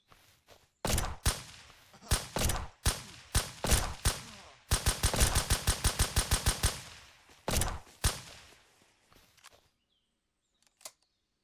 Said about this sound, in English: They're going to continue shooting at me.